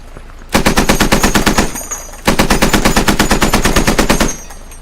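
A mounted machine gun in the game Squad fires two long sustained bursts of rapid, evenly spaced loud shots, separated by a short pause, close and dominant with no voices.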